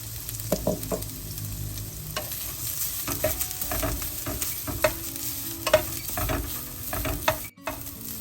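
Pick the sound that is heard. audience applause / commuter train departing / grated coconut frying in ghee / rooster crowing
grated coconut frying in ghee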